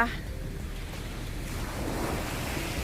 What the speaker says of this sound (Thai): เสียงคลื่นตับตับตับตับเลยค่ะ